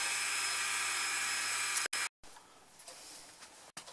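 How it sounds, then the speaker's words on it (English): A tool grinder regrinding a small slot drill cutter gives a steady high-pitched whine that cuts out briefly twice, then returns as a rougher, noisier grind close up. "that's the small cutter at Reegrind"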